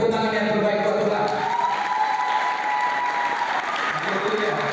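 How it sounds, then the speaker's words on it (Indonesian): An audience at a church youth seminar claps in steady, dense applause throughout, with a speaker's voice carrying over the top and a few cheers. "ayo tepuk tangan yang terbaik buat Tuhan"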